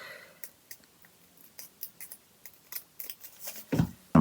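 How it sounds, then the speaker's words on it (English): Scissors snipping mesh nail foil for gel encapsulation, a series of short, close, quiet clicks and cuts in an otherwise still room, ending with a louder handling rustle. "Cut a little bit more off, I think."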